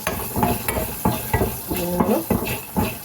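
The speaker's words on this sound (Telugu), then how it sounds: "పోపు దినుసులు వేసుకుంటున్నాయండి" Tempering spices and dried red chillies sizzle in hot oil for a ridge gourd chutney, with a steady frying hiss under repeated clinks and scrapes of a spoon stirring against the pan, close and clear.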